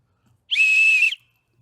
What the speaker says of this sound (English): squad leader whistle.